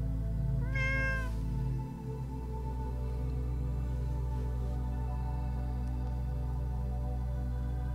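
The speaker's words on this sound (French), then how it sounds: "Quelques chats se promènent sur les toits." A cat on a snowy rooftop gives one clear, drawn-out meow early on, then falls quiet while a steady low drone continues underneath.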